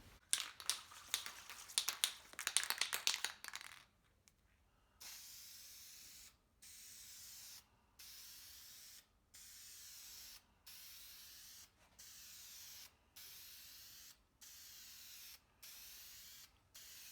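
Spray gun laying a fourth and final coat of primer on a 1965 Austin-Healey 3000, heard as a dense hiss at first, then a steady run of short, even spray bursts separated by brief pauses, close and fairly loud.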